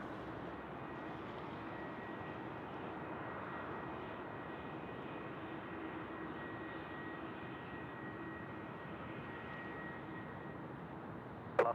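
A Qantas Airbus A330-300 arriving from Manila approaches Sydney Airport, its jet engines a steady, distant broadband roar that holds evenly throughout with no talk.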